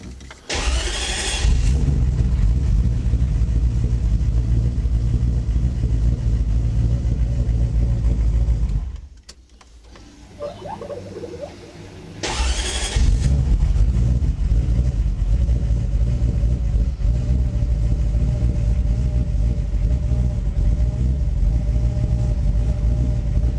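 A car engine fitted with a 2-wire idle control valve cranks and catches, runs at a loud rough idle, cuts out briefly, then restarts and settles back into a steady close idle with slight rev changes.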